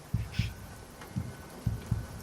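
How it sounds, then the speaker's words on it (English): Slow, steady heartbeat ambience in a tense horror scene, soft low thumps in irregular pairs pulsing over a faint background hum, close and muffled with no talking. "the heartbeat sound is really skeeving me out"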